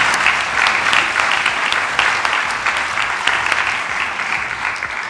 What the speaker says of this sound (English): I think they need some applause because it's not easy.